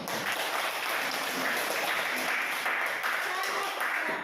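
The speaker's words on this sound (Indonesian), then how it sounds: "berikan aplaus untuk desa" A classroom audience claps together in a brief burst of applause, a dense, even patter of hands that stays steady for a few seconds at moderate distance.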